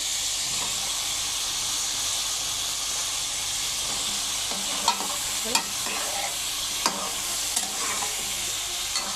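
Pieces of bottle gourd going into a frying pan for a catla fish curry, hissing and sizzling steadily while a spatula scrapes and stirs, with several sharp clatters in the second half; nobody speaks.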